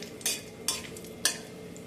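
Cumin seeds and asafoetida frying in a pan for a black chickpea curry: a quiet, faint sizzle marked by three distinct scraping stirs of a spatula.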